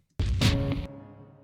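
A cinematic hit from a rescored launch trailer for the game Arc Raiders: a single heavy, loud impact with a bright burst at the start. It then rings out in a sustained, fading tonal tail, with nothing else heard.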